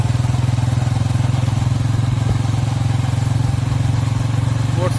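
A motorcycle engine runs steadily with an even, throbbing chug, heard from up close while riding to a village wedding, continuous throughout with no talk.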